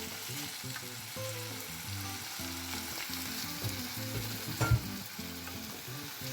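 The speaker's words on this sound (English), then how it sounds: "And mix this very well." Tomatoes and green chilies sizzle in a frying pan while being stirred, a steady close hiss broken by rhythmic scraping strokes and a louder clatter near the end, with no speech.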